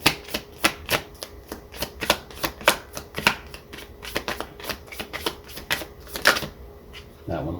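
Tarot cards being shuffled and drawn for a weekly Cancer reading, heard as a rapid, close series of crisp riffling snaps and flicks that run steadily for several seconds, with a soft thump as a card is set down at the end.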